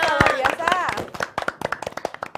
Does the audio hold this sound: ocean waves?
no